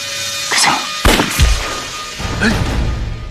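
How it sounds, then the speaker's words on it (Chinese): Gunshots ring out in a war-film battle between Japanese troops and an ambushing army unit, two or three sharp loud cracks spaced about half a second apart, followed by rumbling noise. "开枪！"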